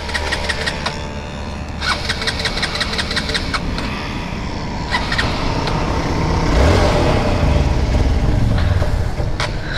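A Hero Xpulse 200 4V motorcycle is cranked over, with a rhythmic starter clatter and engine turning that sputters and swells louder toward the end, heard close up with no talk.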